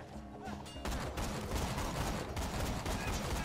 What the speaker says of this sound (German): ich baller grad mit Sniper rum sogar